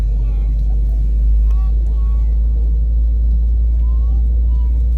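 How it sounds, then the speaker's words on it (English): Airplane engines run in a continuous loud low drone that dominates throughout, with faint whining tones above it and no distinct breaks. "Alright, the engines are done firing up."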